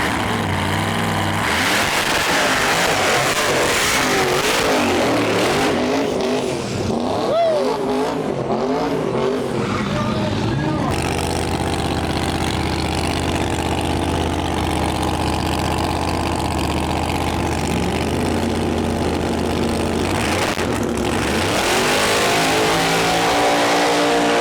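A drag-and-drive race car at a drag racing event idles, then revs and launches, engine note rising and surging with wavering pitch, followed by further loud engine roar and another rev near the end; voices are faintly present.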